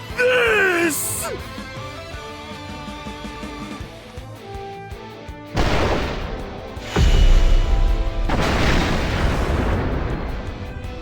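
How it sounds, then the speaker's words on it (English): Magical cannon blast in War of the Visions: Final Fantasy Brave Exvius, booming explosions surging in two loud waves after tonal game music and chimes, with a roaring sustained rumble. "I shall use up all my cannon's remaining magical energy reserves and pulverize anything in its line of beautiful fire!"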